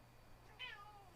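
A small cat gives a single short, faint meow indoors, rising then falling in pitch, alone against quiet room tone.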